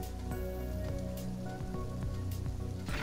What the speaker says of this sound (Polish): mamy zmianę pogody i deszcz